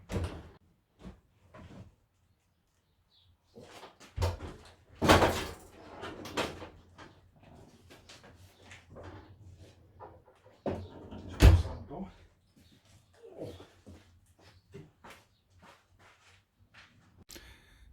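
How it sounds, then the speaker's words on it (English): The door of a rusty Fiat 500L is opened with scattered metallic clunks, creaks and thumps separated by quiet stretches, including one louder bang, while someone speaks occasionally nearby. "And that's how you keep the door open."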